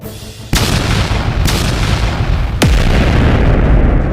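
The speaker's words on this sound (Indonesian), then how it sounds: "Dentuman menggetarkan langit." Deep explosion booms strike three times at uneven intervals, each a sharp, loud onset rolling into a rumbling tail, over a continuous heavy low roar like distant battle.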